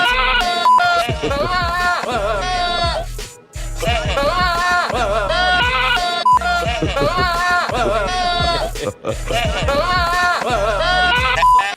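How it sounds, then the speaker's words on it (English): A music track loops goat bleats as sung phrases: wavering, strongly pitched cries repeat in a steady rhythm and almost sound like words, with short gaps between phrases. "there are goats that sound like they make the exact words that this Dick Wallet speaks"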